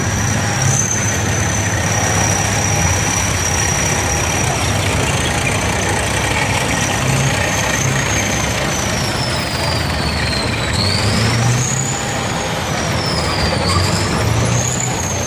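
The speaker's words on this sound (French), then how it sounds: "Comme vous pouvez l'entendre, tout de suite, la motorisation est un petit peu plus sonore." A 2S1 Soviet 122 mm self-propelled howitzer's engine runs steadily at close range, a constant low rumble with a whining tone that wavers slightly, no voices.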